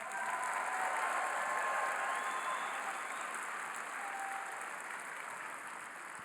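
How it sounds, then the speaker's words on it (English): Steady, dense applause from an audience at a graduation ceremony for alternative education seniors, holding at an even level throughout with a slight easing toward the end. "let's give a big round of applause to our graduating seniors tonight."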